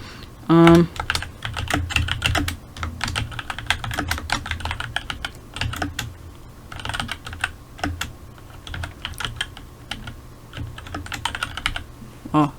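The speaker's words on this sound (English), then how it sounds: "Let's type something." Rapid, steady tapping on a computer keyboard, close and fairly loud, with brief pauses and a few heavier key strikes at the start and end.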